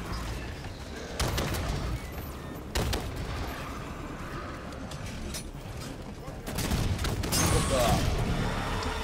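Gunfire in the Halo 5 campaign: dense bursts and repeated shots with heavy thuds and mechanical clatter, loud and busy throughout, with a fresh surge near the end.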